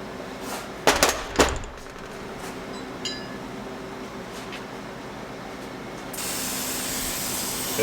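Brake cleaner hisses from an aerosol can onto T56 transmission parts in a garage, with sharp metallic clinks early on and a long steady spray hiss that turns brighter and stronger near the end.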